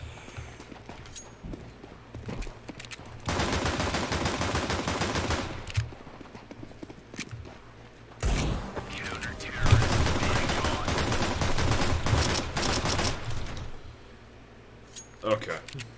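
Rapid bursts of gunfire from the video game Counter-Strike 2 fill two long stretches, loud and sustained, with quieter game ambience and brief pops between them.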